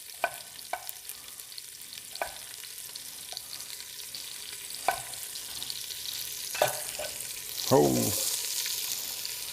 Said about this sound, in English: So I'm gonna go ahead and drop my onion in. I know it's hot, you can hear it.